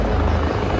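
Military helicopter at the Budapest Air Show, a steady loud rotor and engine roar filling the whole moment with dense low-end rumble, no talk over it.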